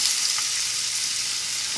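Onions frying in a pan, a dense, even sizzle close up that holds steady and loud throughout the short stretch, alone without voices.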